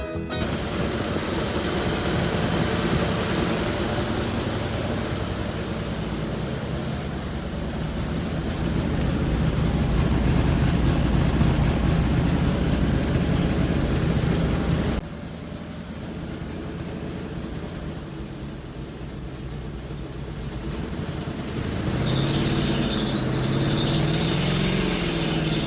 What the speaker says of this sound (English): The car is running here, but it's not perfect.